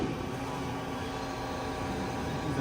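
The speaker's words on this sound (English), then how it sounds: "Go ahead and turn on the spindle." A spindle on a 2006 HURCO TM-6 CNC lathe turning center spins up, a steady low mechanical drone with faint tonal hum, even and continuous, at moderate level with no talking.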